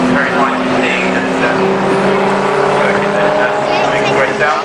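A Volkswagen Vento VR6 with a 2.8 litre engine racing at Donington Park, a loud sustained engine roar with a steady tonal note, continuous throughout, with a commentator speaking over it.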